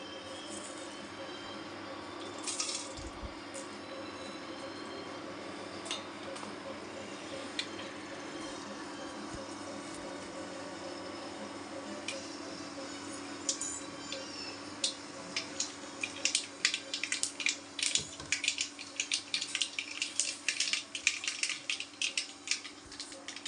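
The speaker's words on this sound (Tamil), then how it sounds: "கடுகு பொரிஞ்சிடுச்சு." Mustard seeds splutter and pop in hot oil in a home kitchen. Sharp crackles build into a dense, rapid popping over a faint steady hum.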